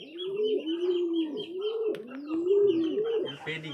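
Racing pigeons coo in a loft, a run of close, repeated rolling coos in steady rhythm, with a brief burst of higher chirps near the end and no talk over it.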